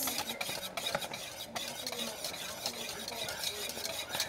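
A spoon scrapes and stirs a thick no-bake cookie mixture in a pot on the stove, making continuous close rasping strokes over a faint sizzle.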